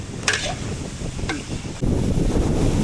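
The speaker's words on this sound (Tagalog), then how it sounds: "ang lakas ng hangin" Strong sea wind roars and buffets the microphone with a steady low rumble, surging louder toward the end, with faint water and boat noise beneath.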